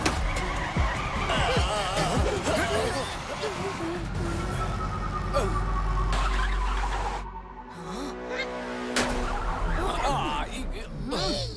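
A cartoon jeep skids hard during a chase from police, tires squealing loudly amid engine noise and crashing effects, with animated voices shouting over the action.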